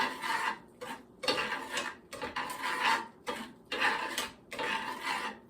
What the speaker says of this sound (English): you want to stir these beans around and get them nice and creamy